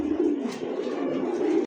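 Fancy khaki pigeons in a cage cooing, a soft, low, rolling coo repeated without a break, close by and fairly quiet, with no voices.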